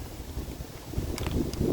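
Wind buffets the microphone in a steady low rumble, with no voices, just gusty noise throughout.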